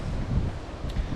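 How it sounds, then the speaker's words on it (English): Low, steady wind buffeting with a rumbling gusty roar, fairly close and continuous, no voices. "it's getting very windy up here"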